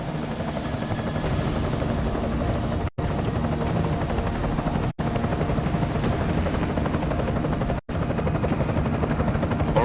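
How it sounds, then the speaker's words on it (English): An enemy helicopter in the video game Deus Ex: Mankind Divided hovers nearby, a loud, continuous rotor thrum and engine drone that runs throughout, cut by three brief dropouts. "Enemy helo sighted."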